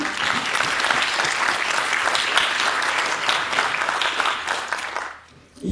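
An audience at an alumni general assembly on the AgroParisTech campus in Palaiseau applauds with loud, sustained clapping that tapers off abruptly near the end.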